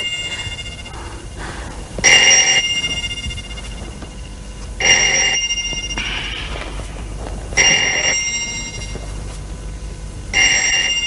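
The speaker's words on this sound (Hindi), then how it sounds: "प्लीज जाके फोन सुनो" An old-style telephone bell rings four times in spaced bursts, loud and close, with quiet room tone in between.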